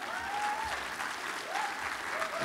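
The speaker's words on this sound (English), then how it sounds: "Can we give them one more round of applause?" A conference audience at an arts marketing keynote applauds steadily, with a dense wash of clapping throughout and a faint tonal whine drifting in and out.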